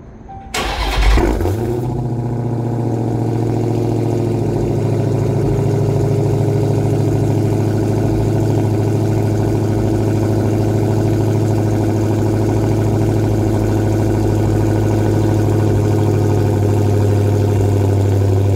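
A Dodge Hellcat V8 engine turns over and settles into a loud, steady, deep idle with a low rumbling throb that continues unchanged to the end.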